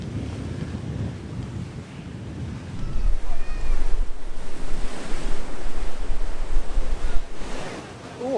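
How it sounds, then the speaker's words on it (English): Wild sea waves crash and surge along the Jurassic Coast in strong July wind, heavy gusts buffeting the microphone as surf builds loud and close, with a brief voice early on. "Oh, that's a pretty wild sea"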